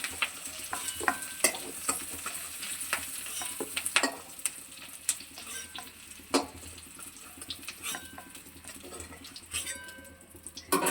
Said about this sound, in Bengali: এবার টমেটোগুলো একটু হালকা নেড়ে নেব, যাতে টমেটোর কাঁচা গন্ধটা একটু চলে যায়।